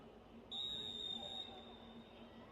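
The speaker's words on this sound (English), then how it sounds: "happening right in front of Jacob Larson, who was quick with the whistle on it" A single sharp, high referee's whistle blast lasting about a second, heard over a faint crowd murmur in the background.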